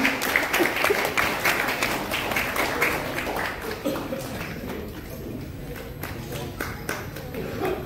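An awards-ceremony audience applauds Dr. Rajiv Mukherjee with a dense burst of clapping that fades to scattered claps, while a presenter speaks over it.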